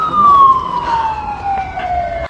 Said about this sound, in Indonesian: saat mendengar suara sirine